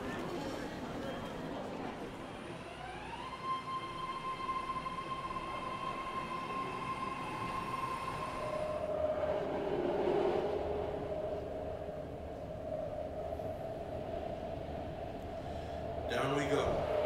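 A BART Pittsburgh/Bay Point–Antioch line train runs along the track with a continuous rumble, rising electric motor whine and brief wheel squeal, heard from inside the car, with voices talking over it.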